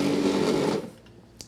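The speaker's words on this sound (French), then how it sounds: "Et on va tout mixer." A food processor or blender whirring as it mixes goat cheese with softened butter, a steady loud motor buzz that cuts off after under a second, followed by faint clatter.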